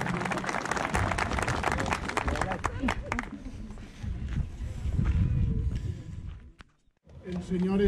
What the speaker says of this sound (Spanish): Aplauso, muy bien.